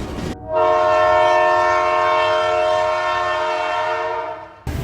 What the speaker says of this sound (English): As the train screamed by, shooting sparks off the tracks, and its metal wheels loudly spinning on them